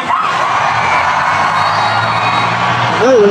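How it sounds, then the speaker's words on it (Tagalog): A crowd of angry young protesters shouts steadily in a dense, loud roar, with a single voice rising sharply above it near the end. "parinig ng sigaw ng mga kabataan galit sa kurap!"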